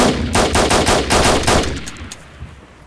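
Rapid automatic gunfire in DayZ, a loud burst of about eight evenly spaced shots over a second and a half, then fading echoes and a few faint distant pops.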